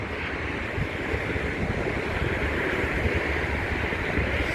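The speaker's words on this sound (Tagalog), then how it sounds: "dagat na po yan dyan" Steady, broad wash of sea surf and wind rushing without pause, dense and fairly loud, with no distinct breaks between waves and no voices.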